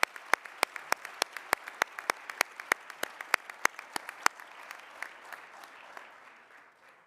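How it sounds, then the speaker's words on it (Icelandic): At a sports awards ceremony in Akureyri, a small audience gives applause that starts as a few sharp, evenly spaced claps, then thins and fades out toward the end. "Gefum þeim báðum gott klapp og til hamingju."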